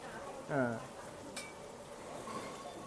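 Steady hissing sizzle of a Thai omelette with minced pork frying in a pan, with a short voice near the start and a single light metallic clink.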